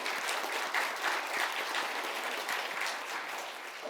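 Congregation at a Sunday church service clapping together, a dense sustained round of applause from many people, even and moderately loud throughout with no talk over it.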